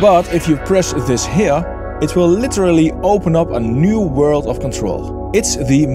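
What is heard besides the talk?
No distinct noise like a dog, phone or traffic.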